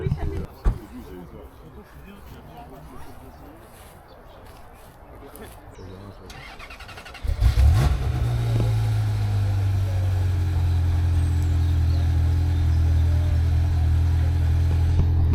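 Quiet rustling and faint voices at a Ferrari exhibition give way to a Ferrari engine cranking and catching, then settling into a loud, steady idle with a low rumble.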